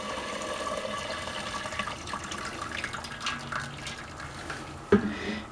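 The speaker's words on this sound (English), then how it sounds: "all we have to do is lift this up and let the broth drain out." Rabbit bone broth drains from a lifted strainer back into the pot, a steady close trickle and splash of liquid with a brief louder slosh near the end, no voices.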